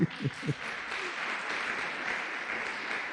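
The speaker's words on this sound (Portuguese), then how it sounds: "Paulino, pode aplaudir." A church congregation applauds in a steady, dense wash of clapping that runs the full length after a few brief spoken syllables at the start.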